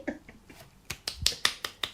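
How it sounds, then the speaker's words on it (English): A run of sharp hand claps, about seven of them over two seconds, growing louder and closer together toward the end, with no talking. "I don't know if you can tell, but I'm clapping."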